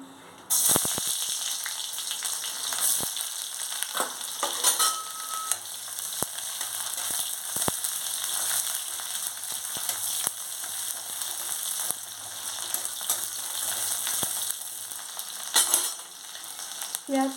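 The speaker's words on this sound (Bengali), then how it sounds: "দেখুন তেল গরম হয়ে গেছে এবার আমি দিচ্ছি পেঁয়াজ কুচি" Chopped onion frying in hot oil, a steady close sizzle that runs throughout with occasional sharper crackles and stirring scrapes, no voices.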